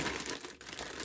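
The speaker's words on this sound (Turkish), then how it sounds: "sivici poşetinden çıkarmak gerekirse" Plastic bag crinkling and rustling up close as an industrial 10G fiber backbone network switch is taken out of its packaging, a continuous quiet crackle with a brief dip midway.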